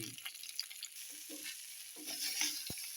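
Seasoned mani kozhukattai, small steamed rice-flour dumplings, tossed in a pan, giving a soft steady sizzle with light scraping and stirring scuffs rising in short bursts, close and fairly quiet.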